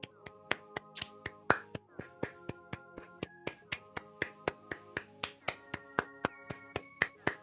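Sharp hand claps land in a steady, even beat, over twenty of them, on top of sustained music in the background, from a livestream show discussing an Xbox showcase.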